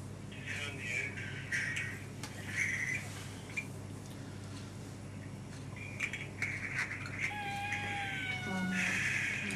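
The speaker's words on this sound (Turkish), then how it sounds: "Yani kedi feryat figan ediyor." An injured kitten whose leg is nearly severed cries in pain with repeated, strained meows of varying pitch, while voices murmur in the background.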